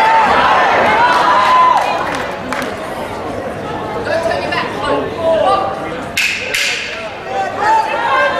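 Crowd cheering and clapping at a women's novice 64kg martial arts bout at the Masters Games 2015, a lively murmur with bursts of applause and shouts, under a commentator's voice.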